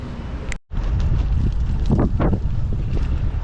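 Strong headwind buffeting the microphone during a bikepacking ride near the Suwannee, a loud continuous low roar with gusty swells and a brief dropout.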